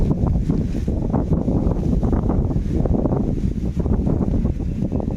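Strong wind sweeping across village fields ahead of rain, a steady close roar with buffeting gusts on the microphone throughout, and no voices.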